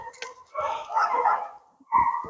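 A German shorthaired pointer lets out a few short barks and yips with pauses between, close by during an e-collar training session.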